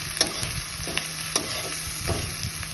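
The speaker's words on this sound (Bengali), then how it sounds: "আদা কুচি দিয়ে একটু ভেজে নেব।" Chopped ginger, garlic and green chilli frying with cumin seeds in hot mustard oil, a steady low sizzle broken by sharp spatula scrapes and taps against the pan at irregular intervals.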